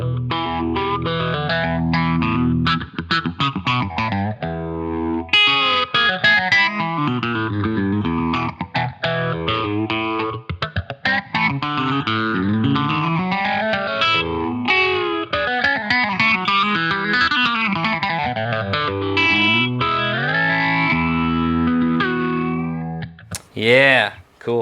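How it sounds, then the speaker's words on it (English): An electric guitar, a Gibson 335 through a Roland GP-8 phaser, plays chords and licks, the tone swirling up and down continuously for the whole stretch, loud and close. "to my ears, this is more of like a country phaser"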